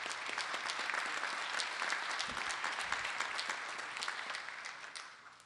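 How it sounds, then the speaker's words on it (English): An audience at an annual town meeting applauds the appointment of a new assistant superintendent: a steady wash of many hands clapping, moderately distant and fairly quiet, tapering slightly toward the end with no talk over it. "Big round of applause for her appointment."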